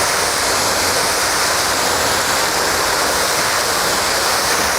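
Steady, loud rush of water sprayed across a car body panel outdoors in the sun before a wax test, a continuous broadband hiss filling the whole stretch with no talking.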